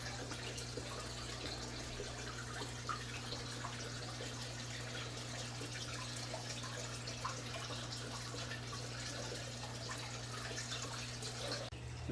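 Water pours into a home fish tank during a water change, a steady soft splashing and trickling that runs unbroken for the whole stretch under a constant low hum from the tank equipment, with no talking.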